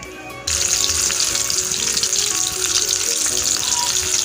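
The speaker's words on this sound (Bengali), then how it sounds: "মাছগুলো আমার ভাজা চলছে" Loud, close sizzling of catla fish frying in hot mustard oil, bursting in suddenly after a brief quieter moment and crackling steadily to the end.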